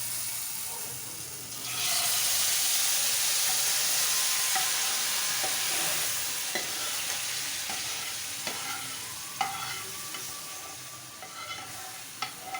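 Tempering for a greens dal (leafy-vegetable lentils) bursts into a loud, steady hiss as it is poured in, with scattered crackles and light spoon clinks over a continuous sizzle.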